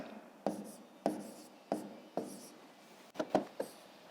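Pencil or pen strokes jotting numbers on paper for a grade-5 maths prime-factorisation exercise: short scratchy bursts in a quiet room, about eight taps and scribbles spaced roughly half a second apart, close and soft.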